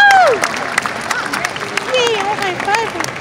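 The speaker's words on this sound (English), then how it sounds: "Please give them a round of applause as they make their way back to the stage." A large crowd at a convention opening ceremony applauds and cheers, loud whoops and voices sliding over scattered clapping, with people calling out close by.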